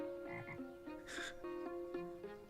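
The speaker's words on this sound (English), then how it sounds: "The frog! The way she just keeps bringing them pets. Hello, Mr. Frog." A frog croaking in the TV series Dead Like Me: a few short, tonal croaks at moderate volume over a soft, steady background hum, with no talking.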